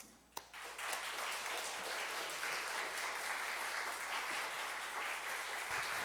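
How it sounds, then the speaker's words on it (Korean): Church congregation applauding as a popera gospel singer comes forward, a sustained, even wash of many hands clapping that starts after a sharp knock and continues steadily at a moderate distance. "이 시간 나오실 때 우리 뜨거운 박수로 이렇게 맞아주시면 감사하겠습니다"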